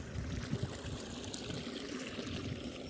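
Irrigation water trickles and gurgles as it drains from one terraced paddy field into the lower field, a steady continuous flow heard close up with no talking.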